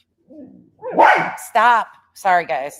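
A dog barks and yips in short bursts close by while a person speaks over and between the barks.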